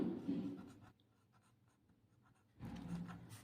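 Pen writing on paper during a class 7 maths lesson, two short scratchy stretches of strokes separated by a quiet pause, close and soft with no talking.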